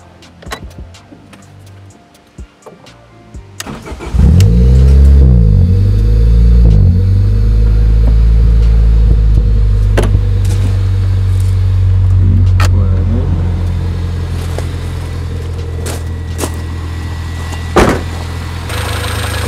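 A Honda Civic engine starting after a new aluminum radiator was installed: a few seconds of quiet clicks, then the engine cranks and catches at about four seconds, settling into a loud, steady idle close by with occasional sharp clicks.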